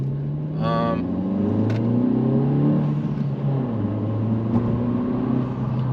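A 2025 Honda Civic Si engine hums and rises and falls in pitch as it revs while driving, a steady rumble with people talking over it.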